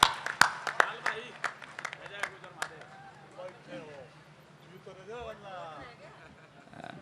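A handful of audience members clap briskly to welcome a poet onto the stage at a Hindi comedy poetry gathering, a short burst of sharp claps that soon fades under someone speaking.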